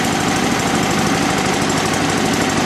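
A Honda HRS 21 lawn mower engine runs close and loud, a steady, rapid knocking chug that holds without a break and with no talk over it.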